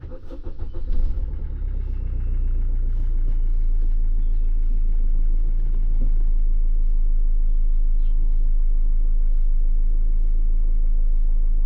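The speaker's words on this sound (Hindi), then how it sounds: "इसको फिर से गाड़ी अगर स्टार्ट करता हूँ" A car engine cranks and catches, then settles into a steady, loud idle with a strong low hum that holds for the rest of the clip, heard from inside the car with a dashcam fitted.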